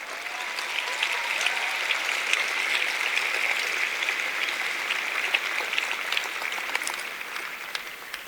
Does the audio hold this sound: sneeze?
no